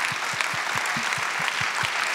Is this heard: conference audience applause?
yes